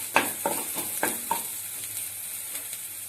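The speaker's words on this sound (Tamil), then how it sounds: "பச்சை மிளகாய் ஃப்ரை ஆயிடுச்சு. நெக்ஸ்ட் பெப்பர் சேர்த்துக்கிறேன்." Green chillies and black pepper fry in a pan for honey chilli chicken, a close steady sizzle broken by several quick scraping stirs near the start, with no voices.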